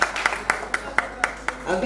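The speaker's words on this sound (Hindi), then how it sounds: "एक बार जोरदार तालियां हो जाए इनके लिए।" Guests at a ring ceremony clap in a steady, evenly spaced rhythm, about eight sharp claps in under two seconds, ending in a brief swell of applause.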